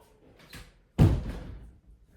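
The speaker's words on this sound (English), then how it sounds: "Someone's just knocked on my door" Someone knocking on a room door: a faint tap, then one solid close thud that rings briefly and fades in a quiet room, with no talking.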